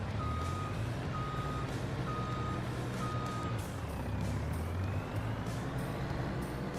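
Steady electronic reversing beeps from a logging truck in a forestry farming simulator, set on an Oregon tree farm, repeating at an even pace over a constant low engine rumble, with no talk.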